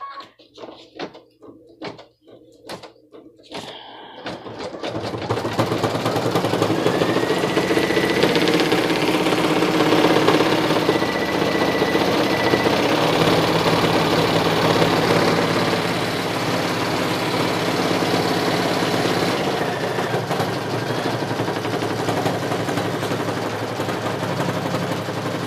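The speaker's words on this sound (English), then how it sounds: "So it seems to be stitching pretty well now." A single-needle embroidery machine stitches a beanie on a 4x4 hoop. After a few scattered clicks, it settles into a fast, steady mechanical chatter that runs close and continuous for about twenty seconds.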